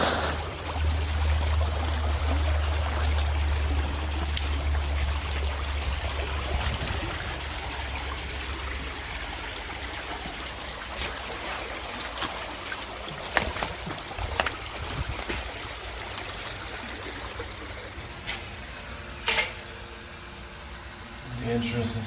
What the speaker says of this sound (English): Water flowing underneath the inlet.